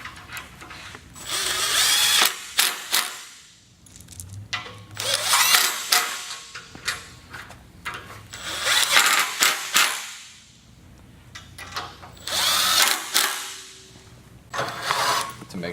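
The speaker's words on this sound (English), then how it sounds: "screwing each one in loosely before tightening down completely to ensure that you don't strip the threads" A power drill drives bolts into the bed rail of a Ryder truck rack, running in three long loud whirring bursts with short pauses between them and no talking.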